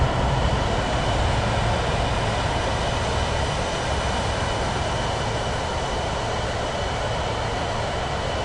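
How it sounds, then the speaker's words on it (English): A loud airplane roars past in Microsoft Flight Simulator 2024, a steady, dense broadband engine drone that holds at full strength, with a faint tonal hum beneath, and no voices. "There's some loud plane behind me."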